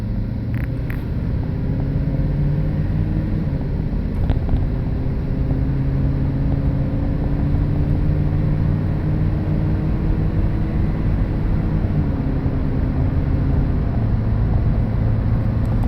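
A 1997 Ford Expedition cruising at night, its steady low engine and road drone holding constant throughout with slight pitch shifts, no voices.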